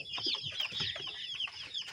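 Chickens and chicks cluck and peep at feeders on a poultry farm, a busy, close chorus of overlapping high chirps and soft clucks with no talk.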